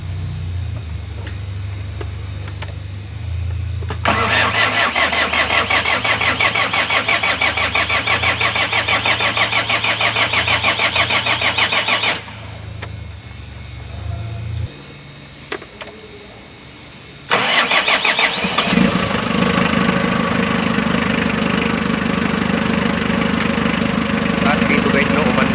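A rebuilt Hyundai D4BB diesel engine cranks and fires, then settles into a loud, even clattering idle. The engine briefly drops off and restarts into a steady run.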